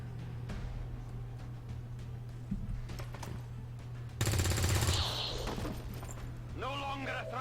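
Weapon fire in the video game XCOM 2 during a wave-defense mission: one loud, dense burst of shots cuts in midway and lasts under a second over quiet background game sound, with someone talking before it.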